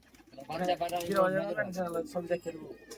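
Madrasi pigeons at a pigeon sale: soft cooing under close, steady conversation, with a voice dominating throughout.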